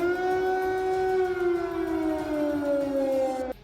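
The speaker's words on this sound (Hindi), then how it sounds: "हमले से कुछ देर पहले वहां के कई शहरों में खतरे के सायरन भी सुनाई दिए थे" A loud wailing air raid siren in a Ukrainian city holds a long tone, then slowly slides lower before cutting off abruptly.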